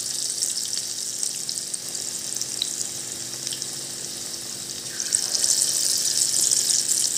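Bhaji fritters of batter deep-frying in oil, a steady close hiss that swells louder toward the end, with no talk over it.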